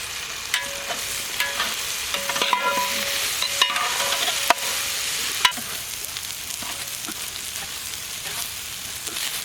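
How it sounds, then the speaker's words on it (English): Boiled rice stir-fried in a pan for paneer fried rice after soy sauce goes in, a steady moderate sizzle with occasional spatula scrapes and two sharp taps against the pan. "Now it's time to add already boiled rice."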